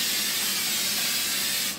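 Cooking spray released from an aerosol can onto a pan before making protein French toast, a steady, unbroken hiss lasting under two seconds with no talking.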